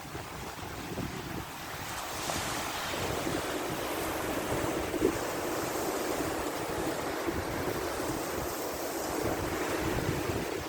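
Continuous roar of sea waves surging close by, mixed with wind rushing across the microphone at a steady, loud level.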